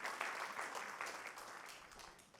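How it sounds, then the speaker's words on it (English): Quiet applause from a church service audience, a soft steady patter of clapping that fades slightly toward the end. "Let's give him a round of applause."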